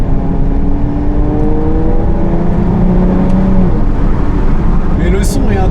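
Aston Martin engine growls while driving with the window slightly open: a steady, rising tonal drone as the car accelerates, under road noise, with someone talking over it.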